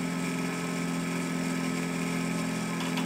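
A magnetic motor runs steadily with a constant, close hum and whine while its load is switched off, the tone holding even throughout with no voices.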